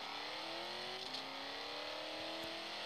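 A racing video game car accelerates, its engine note climbing steadily in pitch with a slight gear change midway, fairly faint and continuous with no talking.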